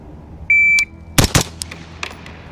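A shot timer gives one steady electronic beep, then two sharp, loud gunshots from an 11.5-inch AR-15 rifle follow in quick succession, with fainter echoing reports trailing after them.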